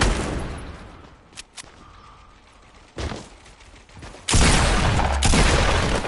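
Rockets being fired repeatedly in a video game, scattered sharp blasts at first, then a loud sustained barrage of launches and explosions near the end.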